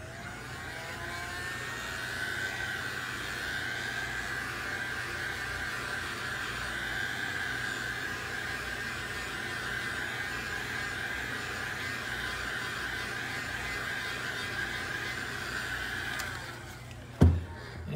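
A dryer runs with a steady, continuous whooshing whine to dry a freshly sprayed coat of Polycryl or SEM Surecoat, holding even for most of the stretch before a sudden clunk as it shuts off.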